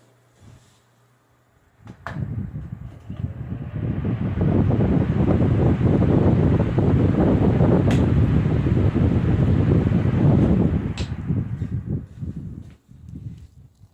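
A 1998 Lasko 16-inch stand fan runs with a loud, rough rushing of air for several seconds, then the airflow eases and fades as the blades spin down, with a few small clicks and knocks along the way.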